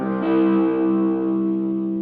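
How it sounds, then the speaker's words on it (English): A simple triad chord strummed once on an electric guitar through heavy distortion, ringing out thick and sustained for about two seconds and slowly fading, with no voices. "There's nothing like just a simple triad with distortion."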